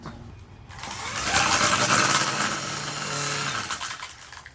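A HART 40-volt cordless brushless string trimmer with a 15-inch cut runs steadily near the mic after a brief quiet start, a dense high electric whine and line whir holding for several seconds.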